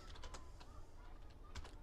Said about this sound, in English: We're going to just type in what is there.